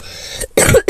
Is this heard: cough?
yes